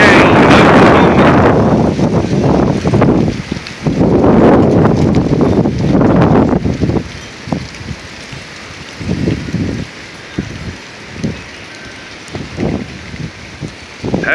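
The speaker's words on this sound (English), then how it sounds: "That's just a real big gust." A big gust in a northern Oklahoma windstorm pounds the microphone in loud roaring surges for several seconds, then drops to intermittent shorter buffets and rustling.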